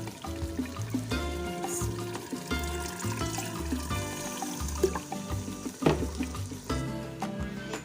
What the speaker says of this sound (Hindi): पानी हमने डाल दिया जितनी हमें ग्रेवी रखनी है